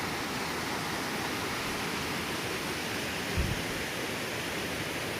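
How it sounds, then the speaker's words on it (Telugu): Steady, dense rush of water pouring at Kolla Bailu waterfall, swollen after recent rains, a loud continuous broadband roar close by with one brief low thump partway through and no talking. "ఇది వాటర్ సౌండ్ వినండి ఎలా వస్తుందో"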